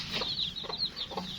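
Young chicks of a backyard flock peep and cluck in short, repeated bursts close by while they run around, the calls coming about three times in quick succession.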